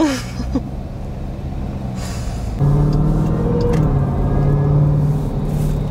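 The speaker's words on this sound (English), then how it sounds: "The Hellcat motor is just too dang loud." A 2018 Jeep Grand Cherokee Trackhawk's Hellcat V8 idles with a deep, loud rumble, then rises in pitch and intensity as it revs, droning steadily throughout.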